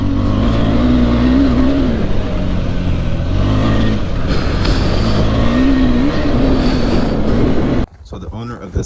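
A KTM 390 Adventure motorcycle engine revs hard out of a corner on an off-road ride, a loud buzzing drone rising and falling in pitch that cuts off abruptly near the end.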